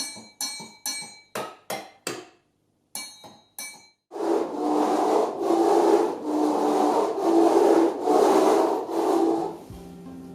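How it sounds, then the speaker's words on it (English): A rake scraped across cardboard: a few short separate scrapes at first, then a long run of continuous, rhythmic rough rasping strokes, close and fairly loud, with no voices. "This rake makes a really interesting sound against this cardboard."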